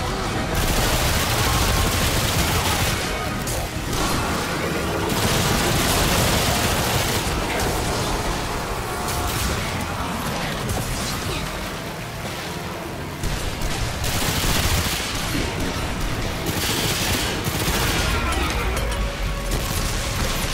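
Dense, near-continuous gunfire from the video game Remnant 2, loud and sustained with rapid bursts and crashes throughout, with occasional brief speech.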